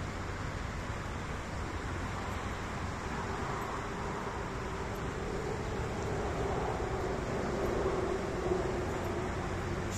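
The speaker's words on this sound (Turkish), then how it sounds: "Sahil çevre yolu geçiyor buradan. O yüzden araba sesi çok fazla olabilir." Steady traffic on a coastal ring road by a beach hums in the distance, a faint continuous wash of passing cars without clear individual vehicles.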